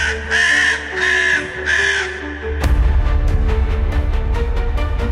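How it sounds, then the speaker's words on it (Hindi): Three drawn-out crow caws ring out loud and close, and then a dark rumble with a fast, pulsing beat takes over beneath them. "तभी उनका ध्यान कौओं की अशुभ ध्वनि से टूटा"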